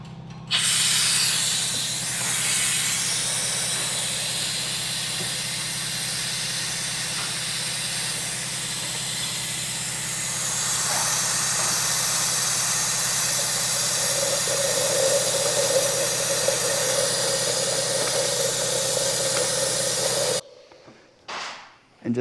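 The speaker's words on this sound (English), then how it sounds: "we're gonna use this Mighty Vac to suck out all the fluid from the reservoir for the clutch fluid" A Mighty Vac hand vacuum pump draws clutch fluid out of the reservoir on a 1973 Ford F100 with a small-block Ford and TKO transmission, giving a loud continuous hiss over a steady low hum for about twenty seconds before stopping abruptly.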